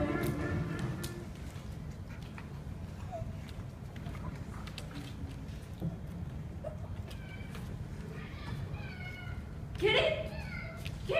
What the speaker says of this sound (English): Kitty? Kitty, where'd you come from? How'd you get in this house?